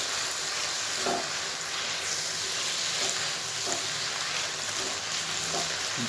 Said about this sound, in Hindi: सिर्फ 2 मिनट इसको मज़ीद मैंने फ्राई किया है